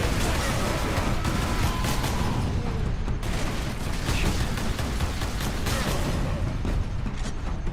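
Fire grenades exploding amid battle in Warhammer 40,000: Space Marine, a dense continuous roar of blasts, gunfire and mechanical clatter with a voice shouting over it.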